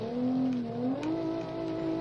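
Race car engine in a gravel hillclimb in the Automation and BeamNG.Drive video game, holding a steady droning note that dips and then jumps higher as the gearbox downshifts, continuous and fairly close with no talking.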